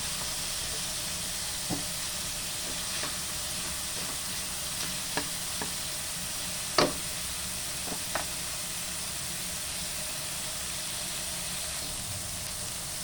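Tomatoes cooking in oil in a pan, giving a steady soft sizzle and hiss with a few scattered stirring clicks and taps, close and moderately quiet, no talking.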